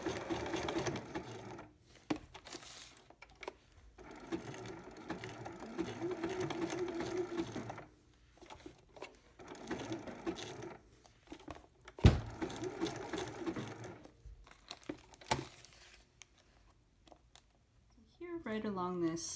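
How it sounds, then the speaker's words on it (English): A sewing machine stitches fabric in several bursts of fast, even whirring, stopping between runs for the foot to be raised and the work pivoted; someone talks quietly in the pauses. "you can raise your presser foot and pivot and start sewing in the other direction."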